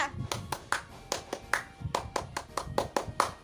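A group does the Scout rhythmic clap, tepuk pramuka, with sharp hand claps falling in a quick patterned rhythm that repeats close and clear for several seconds.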